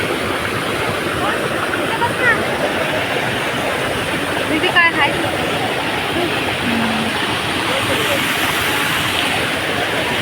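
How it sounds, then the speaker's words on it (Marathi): A waterfall at Tri Mandir in Pune roars as a loud, continuous broadband rush of falling water, filling the whole scene steadily with brief faint voices underneath. "पाण्याचा आवाज खूप आहे. खूप खूप खूप. बघा धबधबा."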